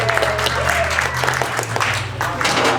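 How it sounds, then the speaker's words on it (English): An audience applauds themselves at a talk, a steady dense patter of clapping from many people in a room, sustained at moderate loudness throughout. "a round of applause for ourselves"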